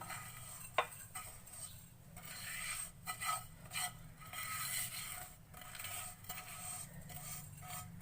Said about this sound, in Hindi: अब एक सर्विंग डिश में हम निकाल लेंगे